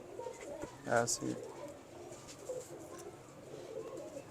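Pigeons coo softly in a few brief, low bubbling calls, one clearer burst early on, heard faintly at close range while someone speaks briefly nearby.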